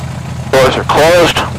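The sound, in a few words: small airplane engine running before flight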